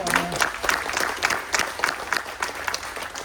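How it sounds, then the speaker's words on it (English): A crowd at a Maryland wine house ribbon cutting claps for a member of the design and architectural team, with distinct overlapping claps in a loose rhythm and a brief voice at the start. "Give him a round of applause"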